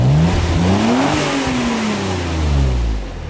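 A Maserati engine revs hard at full throttle with a gruff, diesel-like tone, loud and close, rising and falling in pitch through the run with no voices over it.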